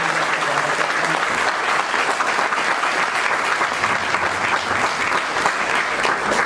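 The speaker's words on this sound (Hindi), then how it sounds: "मैं उनका भी जोरदार तालियों से स्वागत करता हूँ" An audience at a Shree Shivam event warmly welcomes guests with dense, steady applause from many hands, loud and sustained throughout without a break.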